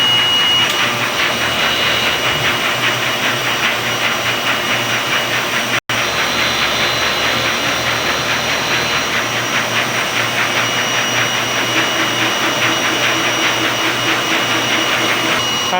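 A DTF printer runs its print head cleaning cycle, a loud steady pumping whir with a faint rhythmic pulse that continues unbroken, apart from one brief dropout.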